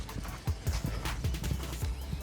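A horse's hooves clip-clop in a quick, even rhythm, close and moderately loud, with no talk over them.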